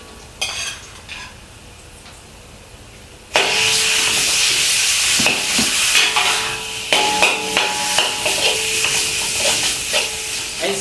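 Minced meat hitting a hot pan with sautéed chopped garlic, a quiet clink first, then a sudden loud sizzle with repeated spatula scrapes and stirring clatter.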